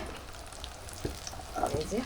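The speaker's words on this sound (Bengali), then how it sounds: "এখন পকোড়া ভাজা চলছে" Jackfruit pakoras deep-frying in hot oil give a steady, fairly quiet sizzle with a few louder bubbling bursts toward the end, no voices over it.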